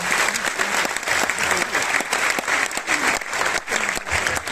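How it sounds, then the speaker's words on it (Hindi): Audience applause at a Hindi-language Modicare event honouring uplines, loud and continuous dense clapping from a crowd throughout. "तो मैं चाहूंगी बस सभी अपलाइनों के लिए तालियां बजाएं।"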